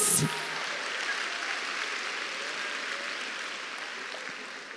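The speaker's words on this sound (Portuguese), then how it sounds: "Pode aplaudir, eles são lindos" Audience applause at a church talk on marriage, a sustained even wash of clapping from a large crowd at moderate distance, beginning after a short sound at the start.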